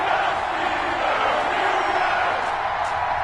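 NFL stadium crowd roars before a Cleveland Browns vs Pittsburgh Steelers game, a loud unbroken wash of cheering voices that holds steady throughout.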